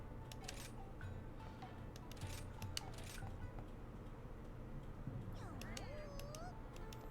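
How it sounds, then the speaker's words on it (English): Several cats meow in short, rising calls near the end, over a steady low hum and scattered clicks from a Monster Hunter game session. "Kitty cats."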